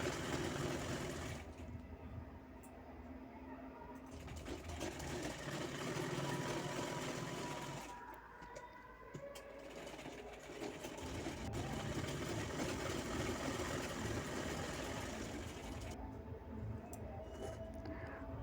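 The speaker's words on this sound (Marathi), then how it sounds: "त्यानंतर पेंटचा मी डबल शिलाई घेत आहे" A sewing machine runs a double line of stitching along trouser fabric for a handmade bag, its steady motor whir rising and pausing in long runs, close and fairly loud with no talk.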